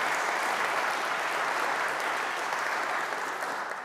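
A crowd applauds during a Rutgers University stakeholder address, a brief burst of broad, even clapping that holds steady and then starts to fade near the end.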